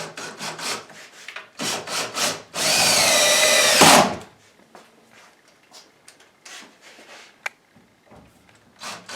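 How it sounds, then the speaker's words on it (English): A power drill drives screws into kitchen cabinets, with short bursts of whirring, then one sustained loud drive of about a second and a half, followed by quieter tool handling and scattered knocks. "let's screw them in place"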